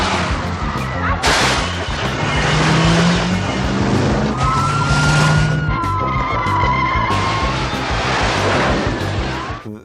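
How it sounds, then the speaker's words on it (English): A police car driving through a shopping mall, its engine roaring and tires skidding loudly close by while a siren wails over the motor. "There's a cop car driving through a mall."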